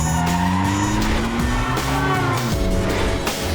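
A car swings around sharply, tires squealing in a long skidding screech over a revving engine, loud and close for a few seconds with no talk.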